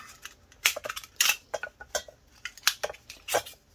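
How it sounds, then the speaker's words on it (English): Scissors cutting thin sterling silver sheet: light metallic snips and crinkles, a series of short sharp cuts at an irregular pace, close by with no talking. "Any kind of scissors will do when it's metal this thin."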